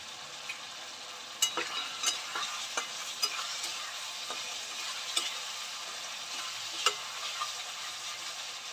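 Ginger, green chili, cumin and asafoetida sauté in a pan with a soft continuous sizzle, broken by sharp ticks of a spoon scraping and tapping at irregular moments, close and quiet, no speech.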